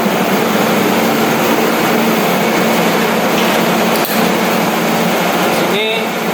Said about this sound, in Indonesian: namun genset masih menyala karena sedang pendinginan